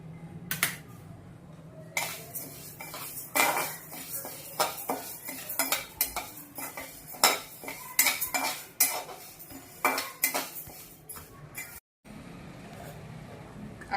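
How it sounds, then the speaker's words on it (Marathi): Urad dal dry roasting in a pan, with a utensil scraping and knocking against the metal in a rapid irregular series of clinks and scrapes, loud and close, with no voices. "आता उडदाची डाळ भाजून घेऊया"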